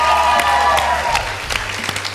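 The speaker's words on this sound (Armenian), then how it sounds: "միևս մեկ անգամ բարձր ծափար ենք ընդունում" An audience at a televised talent-show audition applauds loudly after a singer's performance, dense clapping that starts strong and gradually thins out, with a few isolated claps near the end.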